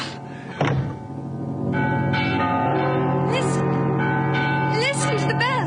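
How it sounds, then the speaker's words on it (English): Bells toll in an old-time radio drama, their deep resonant tones ringing on steadily and layered together after a heavy thud near the start. "Listen to the bells."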